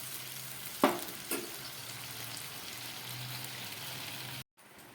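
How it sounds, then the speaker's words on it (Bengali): Gravy for potato kofta with paneer bubbles in a pan, giving off a steady close sizzling hiss with a couple of sharp clinks near the start before the sound cuts off abruptly. "ঝোলটা ফুটে উঠেছে"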